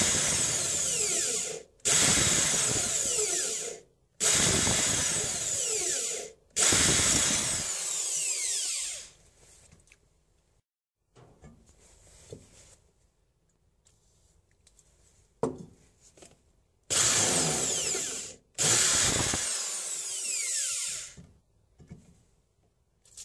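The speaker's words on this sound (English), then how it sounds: "let's drill it." Loud power drill bursts in several runs of a few seconds each, with short pauses and quieter handling noise between them.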